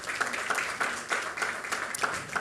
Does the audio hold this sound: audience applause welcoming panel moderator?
yes